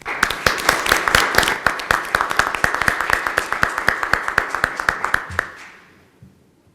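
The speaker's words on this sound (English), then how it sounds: "If we can give all of them, please, a round of applause." Applause from the audience at a school board meeting, a steady run of hand claps from a modest crowd that holds for about five seconds before fading out to near silence.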